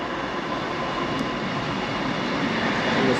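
Train pulling into Pontefract Tanshelf station on the 1447 service to Wakefield, arriving from Pontefract Monkhill, heard as a close, loud, continuous rumble that holds steady and swells slightly toward the end.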